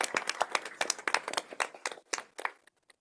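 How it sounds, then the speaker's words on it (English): A school board meeting audience applauds the district's school bus drivers with a burst of hand clapping that thins out to a few scattered claps and stops. "Let's give a round of applause to our school bus driver."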